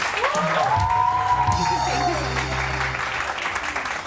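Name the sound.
studio audience applause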